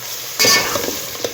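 Biryani is stirred and fried in a pan, giving a steady sizzle with a sudden louder scrape and clink of the spoon, then continued frying.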